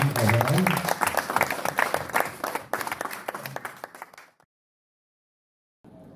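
An audience claps at a heritage award ceremony in Rennes, loud, dense applause that thins into scattered claps and stops abruptly, followed by a silent gap and a faint return of room sound.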